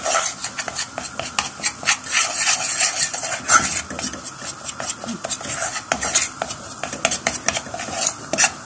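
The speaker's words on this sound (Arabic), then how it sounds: "هنشوحهم مع بعض كده شويه لحد ما تحسي ان هي دابت خالص" Food is sautéed in a pan with butter, oil or ghee. A utensil scrapes and clatters against the metal constantly and rhythmically over a continuous close sizzle.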